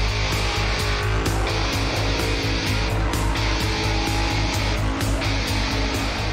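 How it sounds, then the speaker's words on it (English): A 1979 Holden HZ ute with a supercharged big-block Chev doing a burnout at a street machine event: a continuous loud, rough engine roar with pulsing revs and tyre noise, sustained and close, with no talk. "I'm driving a 1979 HZ World Body Ute. It's got a big block Chev in it, supercharger 871, and yeah, here to kill some tyres."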